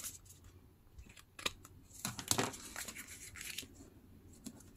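Scissors cutting through paper while crafting a Halloween chipboard folio, a few quick crisp snips and rustles up close, with small handling sounds between cuts.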